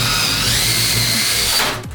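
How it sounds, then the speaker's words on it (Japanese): A power drill bores a hole for a rivet while making a smoke exhaust duct, a loud steady motor whine close by that winds down at the end. "まず穴を開けます。"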